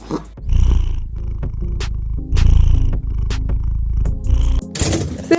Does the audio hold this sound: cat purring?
yes